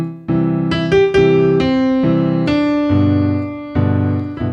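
Solo piano plays Heart of Worship with block chords in the left hand under the melody, a slow series of struck chords ringing and decaying, close and clear with no voice.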